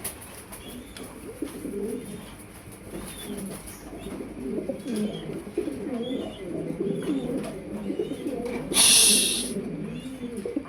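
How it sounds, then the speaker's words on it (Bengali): Fancy pigeons coo steadily in a loft, with soft overlapping rolling calls throughout and a brief sharp noise near the end. "অনেক কবুতর আছে চাইলে অবশ্যই নিতে পারবেন"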